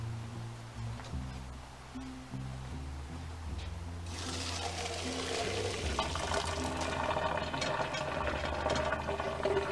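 Quiet low sounds give way midway to water pouring and splashing steadily out as cooked rice is strained, growing louder toward the end.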